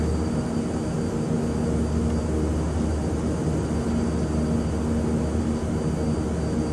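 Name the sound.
airliner engines in flight, Airbus A330-900 in Microsoft Flight Simulator 2020 video game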